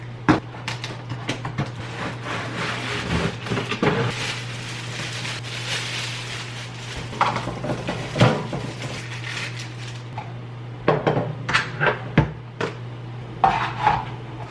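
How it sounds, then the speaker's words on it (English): A dish drying rack coming out of its box, with rattling metal parts, ratchet-like clicks and clattering knocks in uneven bursts, close by over a low steady hum. "Let's unbox my dish drying rack."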